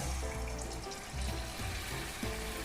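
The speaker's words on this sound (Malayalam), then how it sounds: "വെളിച്ചെണ്ണ പൊരിക്കുക." Egg bajji dipped in maida batter frying in coconut oil, a continuous close sizzle with soft bubbling crackles, no voices.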